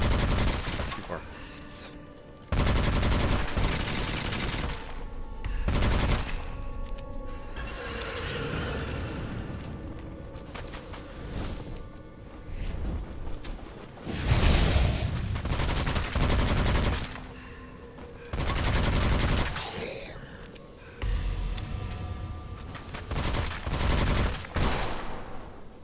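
Bursts of gunfire from a weapon in the video game Witchfire, rapid volleys separated by short pauses, with someone talking between and over the shots.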